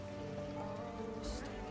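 Steady rain pours down in a continuous wash of noise at moderate volume, with no break across its short length.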